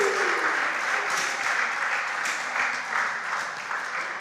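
A round of applause from the audience at a school quiz competition between junior high schools, steady dense clapping that holds at a moderate level and eases slightly toward the end, with no speech over it.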